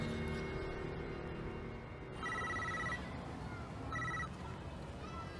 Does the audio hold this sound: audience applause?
no